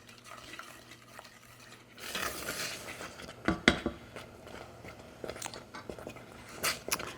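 A spoon stirs a mixture in a pot on the stove before it boils, giving soft scraping and occasional sharper clinks against the pot, moderately close with no talk.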